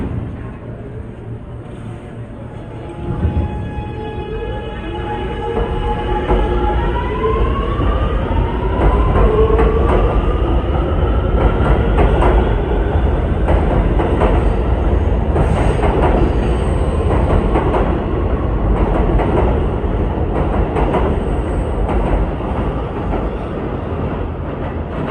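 A downtown New York subway C train, a Kawasaki R211A, pulls through the station with a loud, steady roar and rising metallic whine from the wheels and motors, building after a few seconds and holding to the end.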